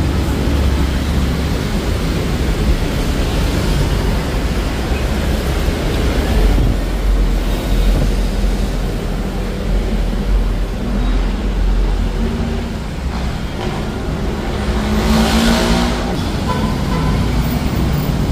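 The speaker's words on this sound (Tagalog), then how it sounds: "Ayan ang LRT Line 2 papuntang Antipolo Station." A steady, loud rumble of a passing LRT Line 2 light rail train in Manila, with broadband roar and faint squealing tones, continuous throughout without voices.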